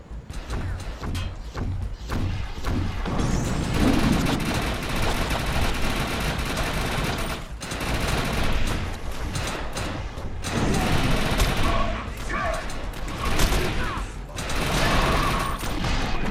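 Evo blast rifle firing in the shooter game Defiance, with dense, loud bursts of rapid gunfire running almost continuously, separated by a few brief pauses.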